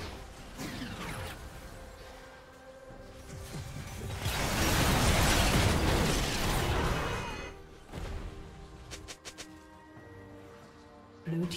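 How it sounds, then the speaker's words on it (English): A League of Legends turret being destroyed during a mid-lane Ahri versus Hwei match, heard as a loud crumbling, crashing burst swelling over a couple of seconds amid game effects, then fading into scattered mechanical clicks and chimes. "Blue team's turret has been destroyed."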